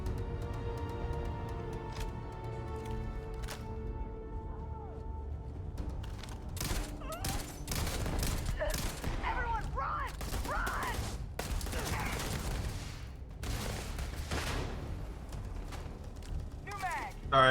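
Gunfire in the space game Starfield: a scattered run of sharp shots and clanking mechanical clicks building in the second half, moderately loud over a low steady hum.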